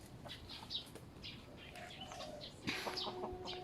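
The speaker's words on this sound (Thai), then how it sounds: "เอาไก่บ้านๆมาให้ดู" Free-range village chickens in a rural Thai home yard cluck in scattered bursts, with one drawn-out call and a sharper burst near the end over steady outdoor ambience.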